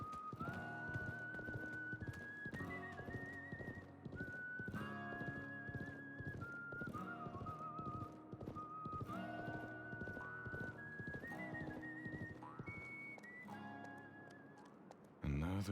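Horse hooves clip-clopping and a whinny in the Wild West chapter of the video game Live A Live on Switch, set against a looping melodic game score with a rhythmic beat, with speech around it.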